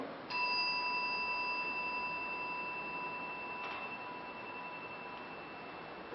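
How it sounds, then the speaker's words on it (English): A single ringing strike of a temple gong at a Buddhist service, sustaining a clear bright tone that slowly decays, quiet and alone, with a faint second touch partway through. "By the sound of the gong"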